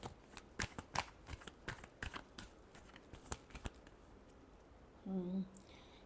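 A tarot deck is shuffled close up, a quick run of crisp, papery card flicks and slaps that fades into quiet, followed by a short tonal sound at the end.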